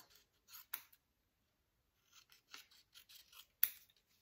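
Scissors cut scrapbook paper in quiet, close snips: a couple of separate cuts, then a quick run of several snips after a short gap, with no talk.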